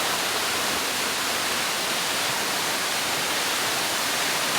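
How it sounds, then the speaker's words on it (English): A waterfall pours down over rocks at the Cells State Conservation Area near Port Macquarie, a dense, steady rushing roar that is close and constant throughout, with no voices. "There's the first waterfall flowing down over the rocks there"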